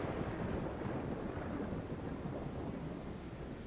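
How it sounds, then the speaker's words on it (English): Rain with a low rumble of thunder in the Star Wars Galaxies video game, heard as a dense, steady wash of broadband noise that stays constant and moderately quiet throughout. "Oh god, it started ominously raining."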